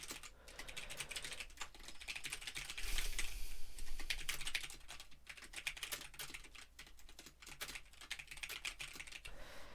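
Continuous typing of C++ code on a computer keyboard, a quick irregular patter of close key clicks with brief pauses and bursts of faster strokes.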